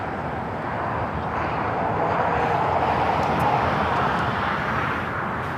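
An A320 airliner taxiing and turning onto a taxiway at LAX gives a steady, broad jet engine roar that stays constant and moderately loud throughout, with no talk.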